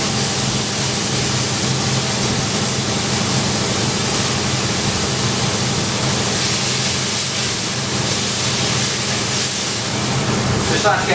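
Game pie meat seasoned with salt and pepper sears in a hot pan, giving a loud, steady sizzling hiss that continues without a break and without voices.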